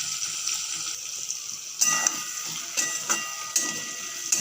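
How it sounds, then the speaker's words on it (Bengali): Taro pieces frying in a pan with salt and turmeric, a steady bright sizzle and hiss throughout with a few louder crackling bursts, close and with no talking. "1-2 মিনিট মতন ভালোভাবে লাল লাল করে কচুটাকে আমি ভেজে নেব"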